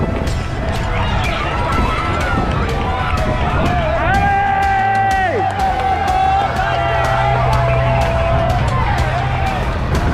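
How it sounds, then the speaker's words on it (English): Roadside spectators on the Mont Ventoux climb of the Tour de France cheer, shout and clap as riders pass. The crowd noise is loud and close, with whistles or horn tones and voices throughout. "as the racers continued towards the summit, we continued cheering on the ones coming up."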